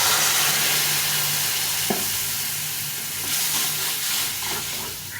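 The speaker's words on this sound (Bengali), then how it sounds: "সর্ষেটা বেশি ভাজবো না, সর্ষে বেশি ভাজলে তিতে হয়ে যায়।" Ground mustard paste with green chili and salt fries in a hot pan for a bata fish curry, giving a steady close sizzle and hiss with a brief stirring clatter, and no voices.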